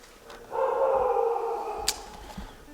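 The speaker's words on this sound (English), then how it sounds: "Not sure if you heard those dogs, but that's what we listened to all night." Dogs barking at night in Lukla, Nepal: a faint, distant, drawn-out yelping howl with one brief sharper yip, heard alone against quiet background noise.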